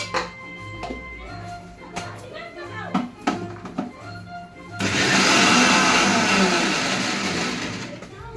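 An electric kitchen mixer grinder whirs loudly and steadily, grinding patodi masala of green chillies, cumin, asafoetida, red chilli powder and turmeric. Clinks and handling noises come first, then the motor starts and runs close up for several seconds.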